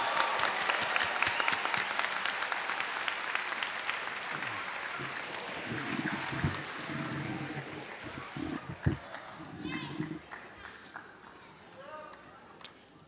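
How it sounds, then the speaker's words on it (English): Audience at an eighth grade promotion ceremony applauding, a loud dense round of clapping that gradually thins out, with scattered cheers and shuffling near the end. "Can we get one more round of applause for all the eighth graders?"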